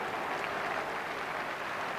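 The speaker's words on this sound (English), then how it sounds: "Sympathetic applause for Arsenal" A football stadium crowd at Highbury applauds at the final whistle of Arsenal against Wimbledon, a steady, broad wash of clapping from the stands.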